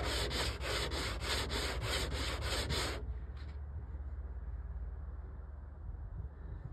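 Hand sanding of body filler being feathered out on a 1964 Chevy Impala convertible, a steady close rasping rub for about three seconds that then drops to a quieter, softer scuffing.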